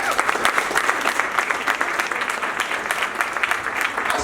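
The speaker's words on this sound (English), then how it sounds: "Let's clap for ourselves." A crowd at a nurses' and midwives' award presentation claps together, a lively, even burst of many hands sustained throughout.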